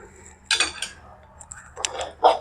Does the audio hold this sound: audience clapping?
no